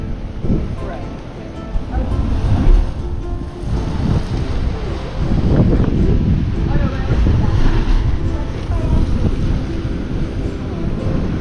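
Choppy ocean surf churns at the Nakalele Blowhole on Maui's rocky coast, a steady broadband wash with gusting wind buffeting the microphone and swells rising and falling throughout.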